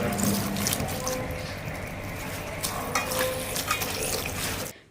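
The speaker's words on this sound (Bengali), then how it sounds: "এখন এগুলো ধুয়ে নেব" Fresh, fertilizer-free spinach leaves are rinsed in water up close, with soft sloshing, trickling and the rustle of wet leaves being handled, a steady, fairly quiet wash.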